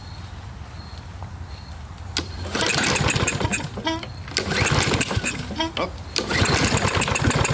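A Husqvarna lawnmower with an automatic choke and a fault that leaves it oil-bound cranks a few times with pull-start rasps, then catches and runs loudly with a rough, uneven engine drone, while a person speaks briefly.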